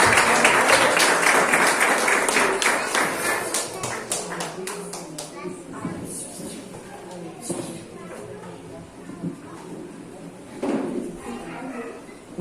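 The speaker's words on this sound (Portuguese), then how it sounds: "Com uma salva de palmas, se glorifica e exalta o nome do Senhor." Church congregation clapping to welcome missionary Stephanie, a dense burst of applause that is loud at first and then thins into scattered claps, with voices mixed in.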